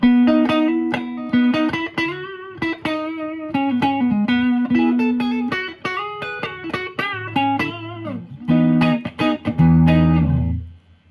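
A Fender Stratocaster Custom Heavy Relic with a swamp ash body plays a clean tone: a melodic line of plucked single notes and chords with bright, ringing sustain, loud and close, building to fuller strummed chords at the end.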